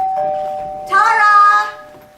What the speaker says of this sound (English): Tara, doorbell!